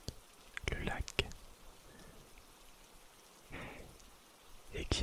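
Rain falling steadily over a calm nighttime lake setting, with scattered drops and soft patter; a quiet whispering voice and a few louder rustles occur over the rain.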